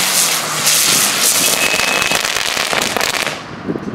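Italian fireworks and firecrackers crackle and burst continuously in a dense outdoor barrage, loud and close, with a hissing, rumbling wash throughout.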